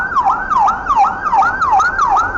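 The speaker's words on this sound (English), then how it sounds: "you see the sirens going by" A loud wailing siren sweeps up and down in a rapid, repeating yelp, an emergency vehicle close by with no other sounds.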